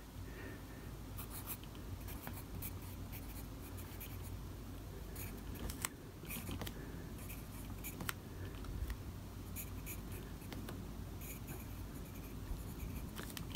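An HB wood-cased pencil writes in a book, giving a faint, continuous close-up scratching with small taps and strokes over a quiet room hum, with no talking.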